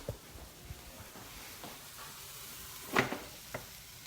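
Burgers frying in a pan during a cooking class, with a faint steady sizzle under scattered kitchen clatter and a brief louder clunk near the end.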